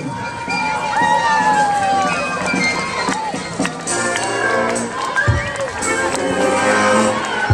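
A large outdoor crowd at a festival procession's close in Limbaži cheers and claps for the Limbaži Olympic Centre, a loud, continuous swell of applause and voices near and far, with an announcer talking over it.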